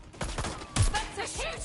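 Gunfire erupts in the video game Watch Dogs Legion as a quick string of rapid, close shots, with one heavier blast in the middle, over a steady game background.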